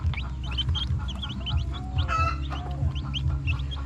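Newly hatched chicks on their third day peep continuously in a poultry pen, a dense chorus of high chirps mixed with soft clucking, close and steady throughout with no talking.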